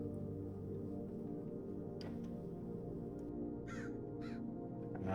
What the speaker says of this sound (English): Nothing but the peaceful sound of crows to help us sleep.